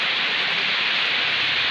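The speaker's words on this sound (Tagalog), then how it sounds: "Ulan guys." Rain falling: an even, continuous wash of hiss at moderate level with no breaks or voices.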